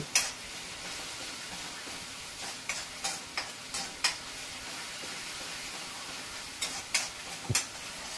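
Vadi batter sautéing in hot oil in a pan, a soft continuous sizzle broken by scattered stirring scrapes and light clinks of a spoon against the pan.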